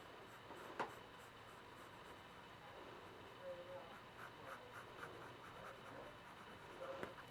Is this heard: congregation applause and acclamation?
no